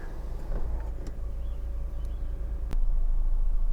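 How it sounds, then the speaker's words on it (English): Honda Accord 2.4 i-VTEC EX Tourer engine idling, heard from inside the car as a steady low rumble with a few faint clicks and a brief sharp tick near the end. "engine's running as it has been all the way through in this video"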